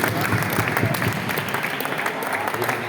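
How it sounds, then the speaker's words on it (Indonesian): A crowd applauds at the prize ceremony of a regional table tennis championship, a full, even wash of clapping that carries on steadily without a break. "mari kita aplaus bersama untuk kegiatan ini"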